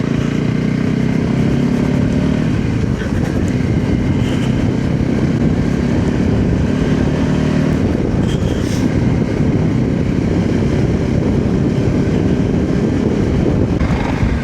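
A Voge 300 Rally motorcycle ridden in third gear, a steady loud engine drone with heavy wind rush throughout, close and continuous with no clear gear changes.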